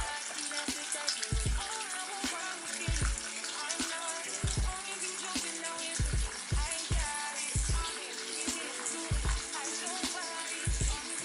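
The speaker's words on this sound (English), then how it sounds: "I can basically get started with rinsing my face off with cold water" Cold tap water running and splashing while a face is rinsed, with repeated bursts of water hitting hands and skin over a continuous faucet stream, close and fairly quiet, with no talking.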